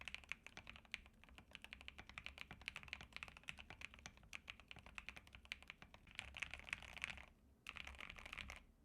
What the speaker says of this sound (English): Last up is the ACO PC75B Plus Air with Milky Yellow Pros.